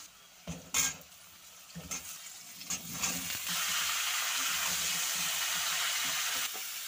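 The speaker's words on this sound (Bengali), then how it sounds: "ব্যাস, আলু আর ফুলকপিটা একসাথে ভেজে নেব।" Potatoes and cauliflower, salted and dusted with turmeric, frying together in an uncovered pan: a few utensil clanks and stirring scrapes give way to a steady, close sizzle that continues to the end.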